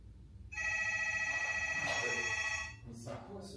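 A phone rings with a steady, loud electronic tone lasting about two seconds before cutting off, heard indoors with faint background noise and a brief sound afterward.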